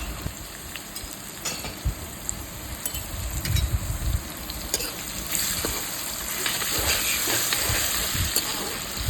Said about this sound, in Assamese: পিঁয়াজখিনি ৰঙা হৈ যোৱালৈকে ভাজি ল'ম।